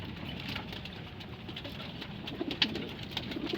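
Pigeons in a loft coo steadily and softly against a dense background of rustling and faint patter, with a few sharper clicks near the end.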